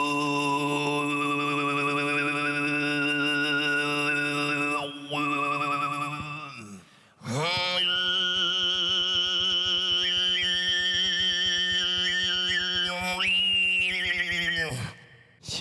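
Mongolian throat singing (khoomei) by Bayalaga on a stage, a sustained droning voice with strong overtones and shifting whistle-like upper tones, held in two long phrases with a brief break, close and loud.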